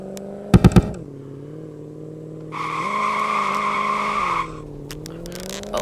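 Monster truck drifting in the video game Vehicle Legends, its engine droning steadily and rising in pitch as a loud tire squeal kicks in mid-drift, a few sharp clanks near the start, no talking.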